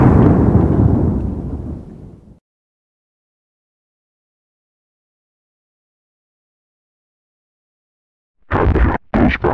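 A missile impact explosion sound effect, a loud roaring blast that decays over about two seconds into silence, followed near the end by a few sharp, harsh bursts.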